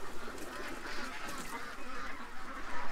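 Ducks quacking and honking at a muddy feeding spot, a dense, fairly faint chorus of overlapping calls throughout, with no clear gaps.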